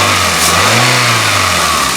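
A Pontiac Vibe engine revs up and settles back, its steady harmonic drone swelling and falling over about two seconds, close and loud with no talk.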